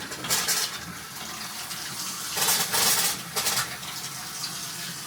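Cold water running from household taps, a steady hiss of flow that swells louder in bursts, in a house where plumbing had shot water and soaked wood floors.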